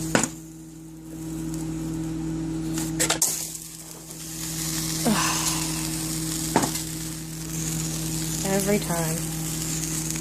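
Spinach and peas go into a hot pan for stuffed shells, bringing a moderate steady sizzle with clattering and scraping from stirring, plus an electrical hum and a brief bit of speech.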